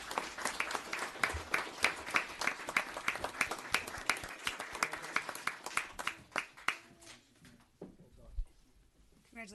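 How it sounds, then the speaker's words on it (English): A small audience at a town board meeting applauds two police officers, with steady rhythmic clapping that thins out after about seven seconds. Scattered voices come in as it fades. "can I get a very nice round of applause for Officer Campion and Officer Schmelman?"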